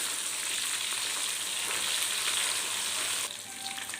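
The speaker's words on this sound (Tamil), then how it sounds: "மீன் எண்ணெயில் நல்லா வறுபட்டுடுது" Fish fries in hot oil in a kadai with a dense, loud, continuous sizzle heard up close, easing slightly near the end, and no voices.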